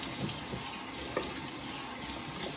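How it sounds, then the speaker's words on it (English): Warm tap water runs steadily from a faucet to rinse a razor during a wet shave with a shave soap puck, a continuous close splashing rush with no talk. "Rinse the razor, do a nice, quick warm water rinse on the face."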